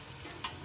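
Fish pieces being stirred through masala in a pan for a Telugu-style fish curry. A soft, brief scrape and a single light clink sound over a low, steady sizzle, with no talking.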